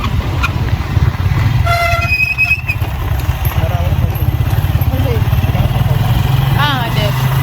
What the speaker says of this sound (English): I just got a motorbike to take me there.